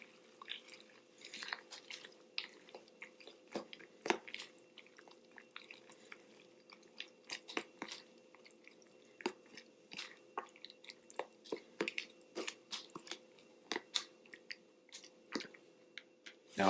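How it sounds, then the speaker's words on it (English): Sloppy joe ingredients stirred with freshly boiled water in a pot, wet squelching and soft clicking scrapes in irregular bursts, close and quiet. "Mix it together one more time."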